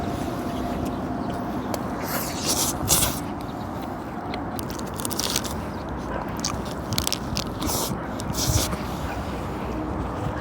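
Someone bites and chews a Burger King BBQ mozzarella Whopper outdoors by a river, with close crunchy bites and wet chewing over steady background rumble, and quiet murmured hums now and then.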